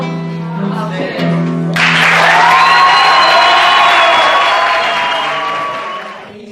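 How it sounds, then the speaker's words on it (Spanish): Applause and cheering from an audience at an international forum on childhood and work in Paraguay swell in loudly after a stretch of talk and music, then hold as a dense, sustained wash before easing off toward the end. "Fuerte el aplauso"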